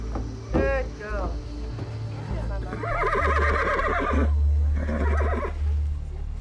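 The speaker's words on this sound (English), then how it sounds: "First up is the mother of Smarty, the sick horse." A horse whinnies several times while being loaded into a trailer, with loud, drawn-out neighs close by over a steady low engine rumble, and a person speaking briefly beforehand.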